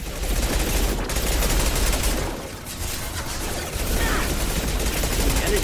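Sustained gunfire from a firefight in the sci-fi game Mass Effect 2, dense rapid shots rattling almost continuously and loud throughout, with one short lull partway through.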